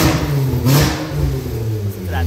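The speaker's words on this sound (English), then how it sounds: "Listen to that throttle response. This is 2022." A 2022 Mitsubishi Outlander engine revs briefly with a quick, close throttle blip, as someone talks over the sound.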